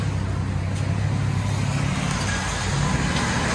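A 2011 Chevy Silverado 5.3L V8 with straight-pipe true dual exhaust, a steady, loud low rumble at idle, heard close and unbroken, with no talk.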